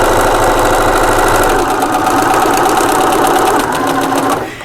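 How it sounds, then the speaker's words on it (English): A sewing machine fitted with a walking foot runs steadily, stitching up the sides of a one-piece fabric purse; a loud, continuous mechanical whirr with rapid rhythmic needle ticking, stopping near the end. "then you're literally going to stitch up those two sides"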